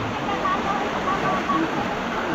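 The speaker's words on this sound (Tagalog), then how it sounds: "ito yung waterfalls na last time na pinaliguan namin" A waterfall where a group had bathed before gives off a steady, close, broadband rush, with faint voices blending into the roar.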